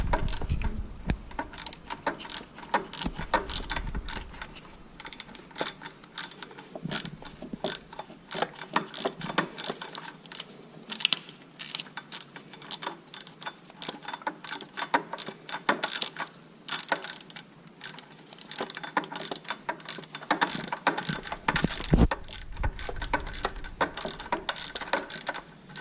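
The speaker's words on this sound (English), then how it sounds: "You take your wrench with the number 8 and you tighten those bolts." A number 8 wrench tightening bolts, heard as rapid ratcheting clicks in bursts with short pauses between, close up and alone without any talking.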